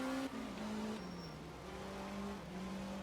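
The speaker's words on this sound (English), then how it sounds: "Those old small Italian engines with the Del Auto carbs and things like that." Small old Italian rally car engine with carburettors in the Art of Rally video game, a steady barky drone with slight pitch shifts as it holds revs, continuous and fairly close.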